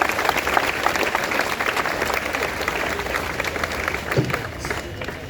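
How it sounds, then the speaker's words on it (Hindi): A crowd claps loudly and steadily throughout, celebrating at a Navratri Garba Mahotsav morning event, with dense applause filling the whole stretch. "तो एक बार इस बेहतरीन सुबह के लिए एक जोरदार तालियां हो जाए।"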